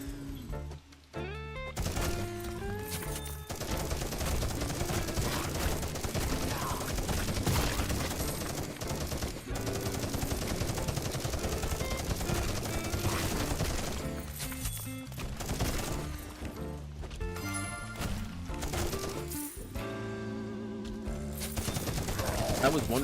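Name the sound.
minigun firing in a video game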